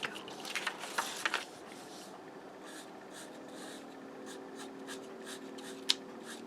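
A fat felt-tip marker squeaks and scratches in short strokes across a surface, close up and fairly quiet, then the strokes fade into a faint room hum.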